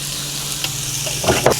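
Ingredients in a pan with sesame oil get a brief, quick stir, a close sizzle with scraping strokes near the end.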